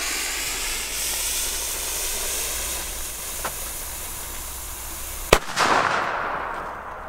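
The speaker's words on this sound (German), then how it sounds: "So, und jetzt der Donnerschlag von Fire Event." A Fire Event thunder banger firecracker goes off outdoors in one sharp, loud crack after a stretch of steady hiss and wind noise, followed by a brief rumbling echo.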